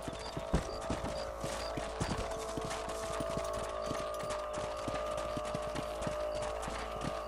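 Horse hooves clip-clopping at a steady trot while riding in Red Dead Redemption, a continuous rhythmic patter of close, clear hoofbeats over a constant background hum.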